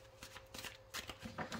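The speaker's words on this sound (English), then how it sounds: "I already shuffled these, but I'm just going to do it a couple more times." A deck of oracle cards being shuffled by hand, a series of soft riffling and flicking bursts repeating at close range, quiet and alone.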